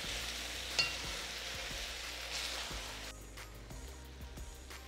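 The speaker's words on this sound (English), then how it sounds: "Now you want to allow the beef to get some brown to sear the lovely juices into the meat." Beef searing and browning in a hot pan gives a steady broadband sizzle with a brief clatter near the start, a little quieter after about three seconds, with no voices.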